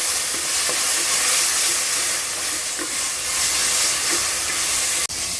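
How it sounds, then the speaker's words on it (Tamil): Ginger garlic paste fries in a pan with a close, steady sizzling hiss and regular scrapes as it is stirred, with no voices and a brief cut near the end. "இதுக்கப்புறம் இஞ்சி பூண்டு பேஸ்ட்டை சேர்த்துக்கலாம்."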